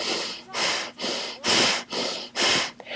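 Forceful rhythmic breathing during a Violet Flame group meditation, about six strong, hissing breaths in steady succession, loud and close with brief pauses between them.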